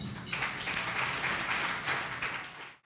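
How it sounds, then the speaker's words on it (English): A roadhouse audience in Pittsboro, North Carolina claps for a singer, a lively round of applause with a few swells that cuts off sharply at the end. "Give her applause."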